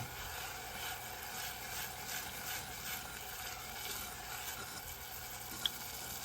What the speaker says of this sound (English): we're gonna go ahead and give that a good stir